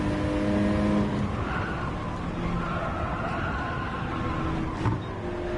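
Gran Turismo 7 race engine note from a Peugeot RCZ Gr.3 road car on hard tyres at Sainte-Croix, a loud sustained droning roar that shifts pitch as the car slides under acceleration, with a brief sharp spike near the end.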